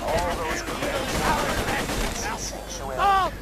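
Grenade blasts and gunfire from the video game Borderlands 2 crackle in quick bursts, with voices talking over them.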